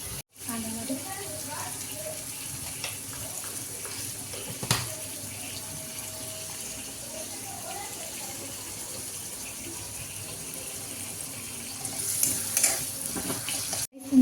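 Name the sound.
onions frying in a pan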